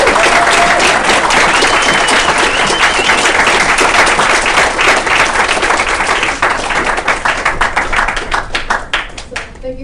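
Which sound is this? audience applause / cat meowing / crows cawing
audience applause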